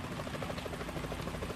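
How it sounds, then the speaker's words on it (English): A helicopter's rotor chops in a steady, rapid pulse over a constant engine drone, fairly loud and continuous throughout, in the video game Metal Gear Solid 2: Sons of Liberty. "Is that a chopper I just heard?"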